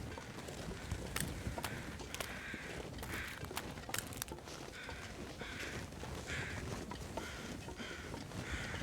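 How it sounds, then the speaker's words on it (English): Crows caw repeatedly in The Long Dark video game, a series of harsh calls at moderate distance over a faint wind-like ambient bed, with no talking. "right there where those birds are"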